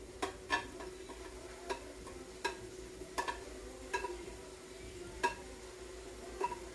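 Shrimp goes back into a pan with cabbage for pancit, giving a faint, steady sizzle broken by sharp clinks and scrapes of stirring, with no one talking.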